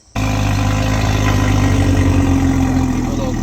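A Toyota Supra engine fires up abruptly and drops straight into a loud, steady idle with a deep low rumble that holds unbroken to the end.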